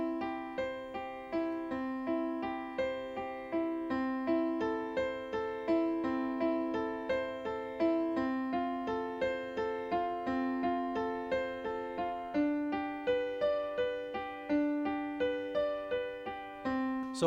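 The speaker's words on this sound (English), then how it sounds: "Now we're breaking those up into triplet arpeggios so they sound like this." Solo piano plays a chord progression broken into steady triplet arpeggios, with evenly repeating notes rippling over about seventeen seconds, soft and close, with no voices.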